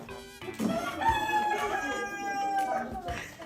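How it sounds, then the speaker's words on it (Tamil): A rooster crows once, a long drawn-out call close by, with faint clucking and background noise around it. "அப்போ கோழி கூவுது"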